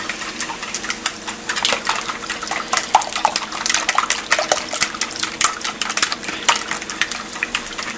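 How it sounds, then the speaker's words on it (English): Eggs and heavy cream whisked in a bowl, a steady, close rattle of quick scraping and splashing strokes that keeps up without a break, no voices. "we're going to whisk these up"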